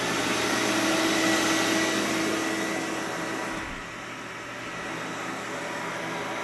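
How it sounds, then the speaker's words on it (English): A steady, loud mechanical whine and broadband roar of a vacuum cleaner running continuously, dipping slightly partway through, with no talking. "the vacuum cleaner is super loud, so we'll just use this for ambient sound"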